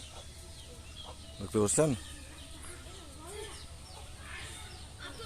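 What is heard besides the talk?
native village chickens clucking by a pond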